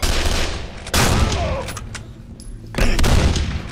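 Heavy shotgun blasts from the video game Condemned: Criminal Origins, two loud booming shots about two seconds apart, each ringing out with a long decaying tail.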